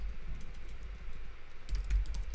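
Someone types a message on a computer keyboard in Slack, producing soft, quick key clicks in an uneven rhythm that grow louder and denser toward the end, with no talk.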